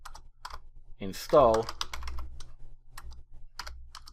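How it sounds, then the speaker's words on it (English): A computer keyboard clicks out a run of rapid, close keystrokes while commands are entered into a .NET package manager console, and a voice briefly speaks over the typing. "and then you type your commands"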